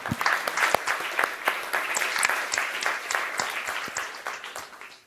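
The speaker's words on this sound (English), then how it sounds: "I kindly ask all of you to join me in a round of applause for our honorable" Sustained audience applause at a G20 corporate session in Accra, dense clapping from a large crowd filling the room, steady then slowly tapering off.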